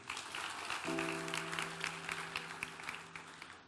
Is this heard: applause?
yes